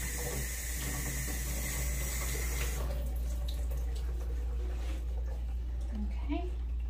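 Tap water runs steadily into a sink while a nursing assistant tests its temperature during denture care, a continuous hiss and splash that is prominent for the first few seconds and then quieter.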